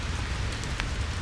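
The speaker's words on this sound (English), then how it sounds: "It's been really raining, and it still rains." Rain keeps falling in a wet autumn forest outside Copenhagen, a dense, steady patter on leaves and ground with a single sharper drop tick standing out, with no voices.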